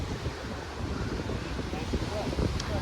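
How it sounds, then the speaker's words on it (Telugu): Strong wind buffets and roars across Pattaya beach in Thailand during a kite festival, with a steady gusty rush, and no clear voices. "ఈరోజైతే గాలి చాలా గాలి వస్తుంది బీచ్లో"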